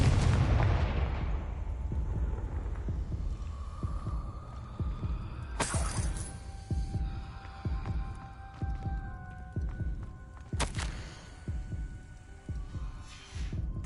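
Confringo blasting-curse explosions from Hogwarts Legacy boom loud and close, an initial heavy blast followed by two sharp cracking bursts with lingering rumbling and ringing tails over a throbbing game soundtrack.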